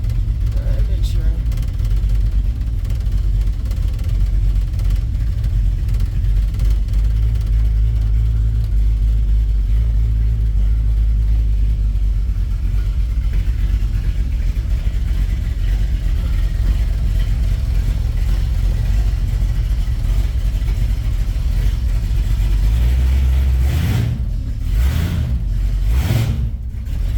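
A 1967 Mercury Cougar engine drones steadily and loudly while the car is driven, a continuous low rumble throughout with a few sharper, rising bursts near the end.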